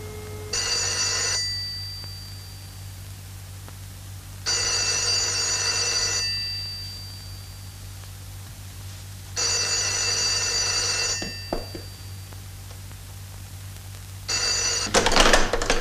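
A telephone bell rings in four separate long bursts with quiet gaps between them, clear and moderately loud, in a scene from the 1982 film The Living Dead Girl.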